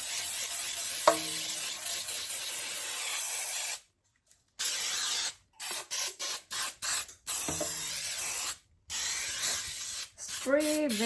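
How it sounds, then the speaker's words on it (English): Oil spray with flour hisses onto a 10-inch round non-stick cake pan in several close bursts, long sprays broken by short pauses and quick repeated spurts. "I'm using a oil spray with flour already"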